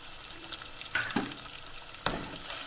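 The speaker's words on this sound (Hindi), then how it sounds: "इसे हम प्याज के साथ ही फ्राई करेंगे कड़ी पत्ते को, ताकि इसके अंदर से बहुत अच्छी से खुशबू आने लगे" Onions and curry leaves frying in a pan, a soft continuous sizzle with a few brief stirring scrapes, close but quiet, with no talking.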